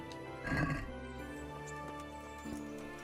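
A horse neighs once in a medieval-style video game, a brief whinny standing out over a quiet ambient background.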